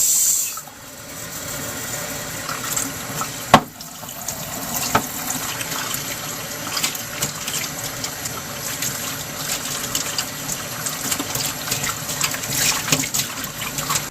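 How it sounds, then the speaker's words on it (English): Water runs and splashes steadily at close range while a glass candle jar is washed with a little dish soap and warm water, with one sharp clink partway through and no talking. "I'm just going to clean it with a little soap and warm water."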